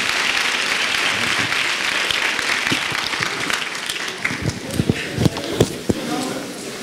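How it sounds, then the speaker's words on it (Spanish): Audience applause for a veterinarian speaker, dense at first and then thinning into scattered claps and shuffling, with voices murmuring in the room. "le damos un fuerte aplauso al médico veterinario Rodríguez."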